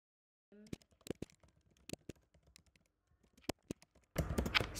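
Rapid typing on a computer keyboard while renaming a wallet account, a burst of close, crisp keystrokes with short pauses, ending in a denser flurry of clatter.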